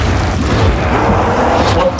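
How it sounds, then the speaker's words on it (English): A Call of Duty: World at War explosion produces a loud, sustained low rumble with a heavy booming body that fills the whole moment, dense and unbroken. "What was the explosion?"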